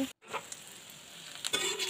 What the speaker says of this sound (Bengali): দেখো আমি আস্তে আস্তে কলার বড়া বানানো শুরু করে দিয়েছি।